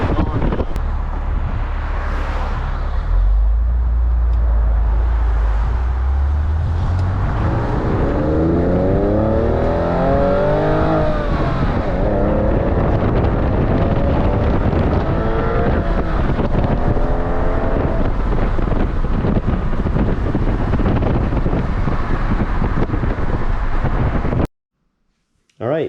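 A Porsche 996 accelerates hard, its engine rising and falling through several gear shifts under heavy wind and road rush from inside the car. The sound runs loud and continuous, then cuts out briefly near the end.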